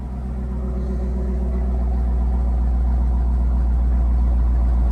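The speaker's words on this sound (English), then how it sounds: "Let me know which one sound better off the startup." A car engine, either a Camaro ZL1 or a Dodge Hellcat, idling just after startup, a close, steady, deep rumbling throb that grows slightly stronger over a few seconds, with no one talking.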